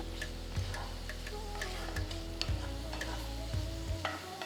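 Tomatoes fry over a medium flame for Rayalaseema pulagam palli chutney, a steady sizzle under regular spoon scrapes and ticks against the pan, with a low constant stove hum.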